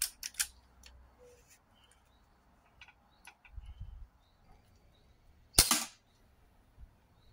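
A single sharp gunshot rings out loud and close during a shooting session, a short crack with a brief tail, amid quiet outdoor ambience with faint ticks and a low rumble just before.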